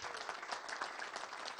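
Audience applause at a talk on leadership and emotional control, a faint, steady wash of clapping from a crowd, fairly distant and without speech.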